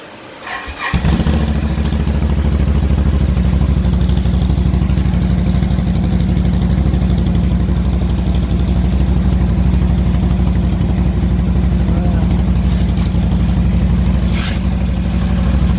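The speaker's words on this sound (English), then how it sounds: "I'm going to do a first start to show you how it sounds" A 2018 Can-Am XMR 1000 with its stock factory exhaust cranks over and fires up, then settles into a loud, steady, close idle that runs on uninterrupted.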